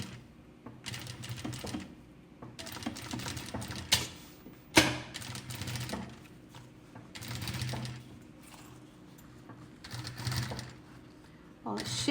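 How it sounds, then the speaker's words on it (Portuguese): A sewing machine stitching a zipper onto a bag runs in several short rattling bursts with pauses between them, while someone talks quietly over and between the stitching. "E vou continuando essa costurinha pela parte de dentro."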